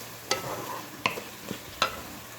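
Potatoes are stirred and fried in spiced oil in a pan for spinach and potato sabzi, giving a few distinct scraping stirs over a soft, steady sizzle.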